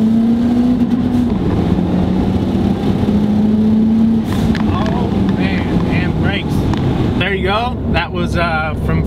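A big-turbo car pulls hard from first up through third, its loud engine note rising steadily in pitch through each gear with brief dips at the shifts, a voice talking over the roar toward the end.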